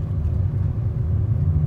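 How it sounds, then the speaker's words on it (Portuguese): Water tanker truck working at a construction site at Praia do Futuro, its engine giving a steady low rumble up close, continuous and unbroken. "O velho dirige um caminhão pipa trabalhando numa obra aqui na Praia do Futuro."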